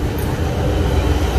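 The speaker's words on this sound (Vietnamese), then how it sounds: "đây là một đoàn tàu chở hàng này. Thì nó đang đi qua cái đường sắt." A freight train passing close by on the railway, a loud steady rumble and roar of wagons rolling along the track without a break.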